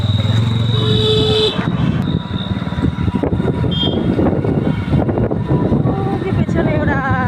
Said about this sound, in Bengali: ওঠো ওঠো, বাইকে ওঠো।